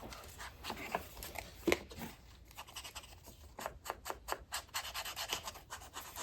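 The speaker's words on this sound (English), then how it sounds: "I need to trim this guy down." Scissors snipping around a paper postcard cutout for a junk journal, a run of soft close scratchy cuts and paper rustles, growing into quicker repeated snips toward the end, with no talking.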